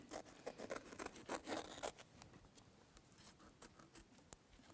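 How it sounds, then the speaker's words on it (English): Sharp scissors trimming base fabric for a pot holder, a quick run of crisp snipping cuts up close at first, then fainter rustling and scraping of the cloth being handled. "So I'm going to start by trimming my base fabric."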